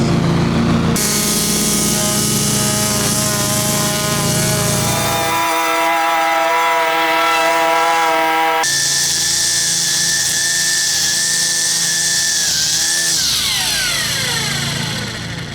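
A Milwaukee cordless string trimmer runs continuously and loudly with a high electric whine that shifts pitch partway through as it cuts, then winds down near the end.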